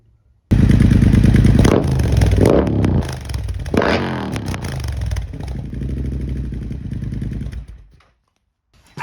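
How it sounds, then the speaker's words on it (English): A Triumph Bobber motorcycle runs on a dyno, loud and close, its engine revving up in several rising surges, then holding a steady roar before cutting off near the end, with no talking. "we got the bobber on the dyno"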